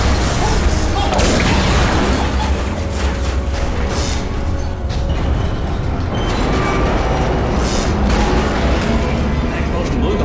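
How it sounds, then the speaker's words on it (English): Explosion tearing apart a toxic goo pump station in the Portal Stories: Mel video game, a loud sustained rumbling boom with clattering mechanical debris lasting throughout. "Explosion blew the whole toxic goo pump station apart."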